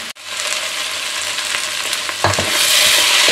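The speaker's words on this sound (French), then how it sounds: "On remue régulièrement." Onions fry hard in a pot for onion soup over high heat, a dense, loud sizzle that keeps building, with a spoon scraping and stirring through them at close range.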